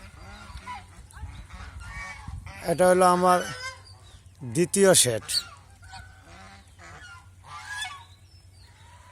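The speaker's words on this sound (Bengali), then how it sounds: "এই যে ছেলে হাঁসগুলো দেখা যায়, যে ভাসমান অবস্থায় আছে ছেলে হাঁসগুলো।" Geese at a riverside goose farm give two loud honking bursts close by, over a steady low hum, with someone talking in between.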